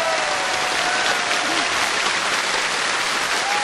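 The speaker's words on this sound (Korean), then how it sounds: "저희가 박수 주세요." An audience at a K-pop event applauds, a dense, even wash of clapping that holds steady and close throughout the short stretch.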